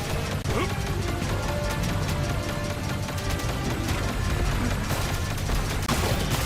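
Rapid automatic gunfire in a World of Warships-style game blends with mechanical clatter in a dense, continuous burst of shots that keeps up at a steady loud level, with no voices over it.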